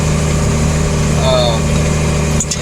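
A tractor engine runs steadily while planting, a constant mid-low drone with an idling character filling the whole stretch, with faint background voices over it.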